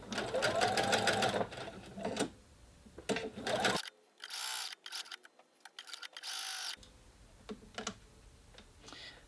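A sewing machine stitches a continuous placket in bursts of rapid mechanical whirring, stopping and starting with short pauses and quiet handling noises between runs, heard up close.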